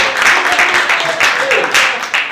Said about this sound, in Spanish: ¿Cuántos pueden darle un aplauso a Cristo Jesús en esta hora?